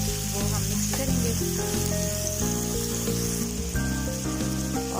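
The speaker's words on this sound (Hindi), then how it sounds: "ये अब हमारे मशरूम और शिमला मिर्च जो हैं ये अच्छी तरह फ्राई हो गए हैं" Mushrooms and bell peppers fry in ghee with a steady, soft sizzle that runs the whole time beneath prominent melodic background music.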